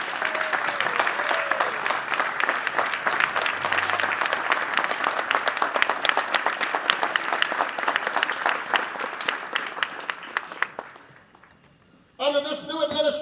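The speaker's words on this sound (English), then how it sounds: "let's give them a round of applause" Sustained audience applause for the police departments at a city's State of the City address, dense clapping that holds loud for about ten seconds then fades, followed by a voice starting to speak.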